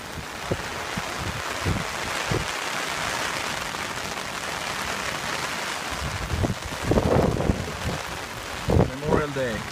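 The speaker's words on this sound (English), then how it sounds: "It's raining so much." Steady heavy rain hisses continuously, with wind buffeting and a few scattered voices and thumps breaking in near the end.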